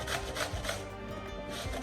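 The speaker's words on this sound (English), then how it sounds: "we want our onion very small, so I'm going to grate it." An onion being grated by hand for meat dumpling filling, heard as a steady run of close, rhythmic rasping strokes with no talk over it.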